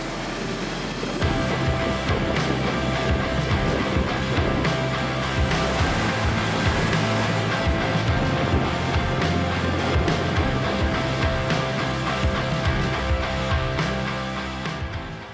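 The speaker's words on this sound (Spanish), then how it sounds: "Dettifoss es la cascada más grande de Europa por el volumen de agua que fluye" A thunderous, constant roar of heavily falling water at Dettifoss, Iceland, Europe's largest waterfall by volume, dense and unbroken throughout, with no voices.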